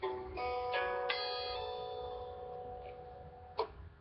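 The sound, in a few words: guitar notes with hammer-on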